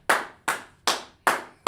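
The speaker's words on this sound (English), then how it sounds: "so let's clap up to him." Hand claps at a gathering ring out in five sharp, evenly spaced strikes, loud and close in a steady rhythm, with no talking over them.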